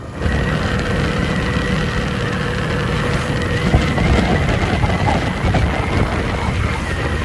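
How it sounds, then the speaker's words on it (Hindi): A 100cc motorcycle engine labours steadily on a high-altitude mountain road between Kedarnath and Badrinath, a continuous loud drone under road and wind noise throughout, with no voices. "यहाँ पे ये जो बाइक का थोड़ा बहुत जोर लग रहा है।"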